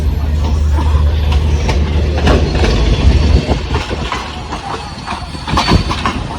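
A crowded passenger train on the New Delhi to Amritsar run, near Khanna Junction, rumbles loudly from inside the coach with rapid clickety-clack wheel beats and sharp rattling clanks.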